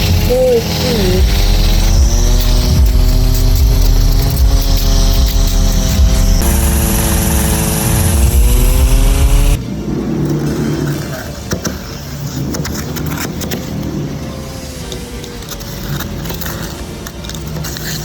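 A rotary tool with a sanding grit bit whines loudly, its pitch rising and shifting as it works, then drops to a rougher, quieter grinding buzz for the remainder.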